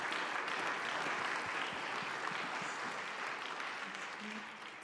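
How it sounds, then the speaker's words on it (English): Audience at a church town hall meeting applauding, a dense steady clatter of many hands that holds for several seconds and tapers slightly at the end, with faint voices underneath. "Can we offer Dr. Fulbright and Amber a round of applause and thank them for investing their time with us this morning?"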